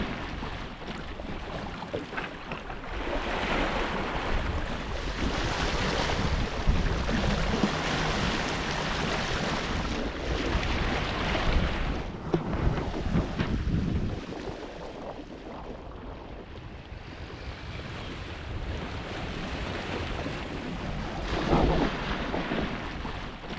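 Wind rushing steadily across a sailboat at sea in the remote Pacific under light breeze, a broad roaring wash with gusty swells and wind buffeting the microphone, no voices.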